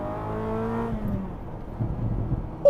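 A Ferrari 355 engine revs and pulls away, a rising mechanical drone fading into a lower rumble with a few tyre and road noises, moderately close.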